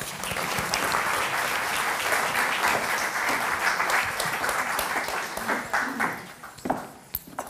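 An audience at a literary talk in Porto claps warmly for a guest, a dense, sustained round of applause that thins into scattered claps near the end.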